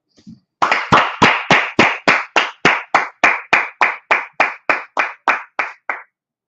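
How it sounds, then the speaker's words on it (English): Hands clap in a steady, even rhythm, about sixteen sharp claps in a row, loud and close, at a church gathering with no talk over them. "Clap it up."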